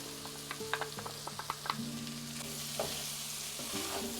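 Green peppers sizzle and fry in a pan for a ground beef and potato casserole, with a run of clinking stirring strokes early on, then a steady, even sizzle, close and fairly loud, with no talking.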